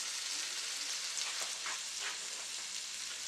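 Salmon pieces frying in a pan with a honey Cajun sauce, giving a steady, close sizzle with soft crackles and bubbling and no talking.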